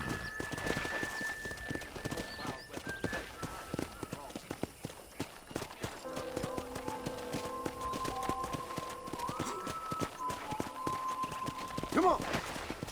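Horse hooves clip-clopping at a trot while riding in the western video game Red Dead Redemption, steady and fairly close, with game music and characters talking over them throughout.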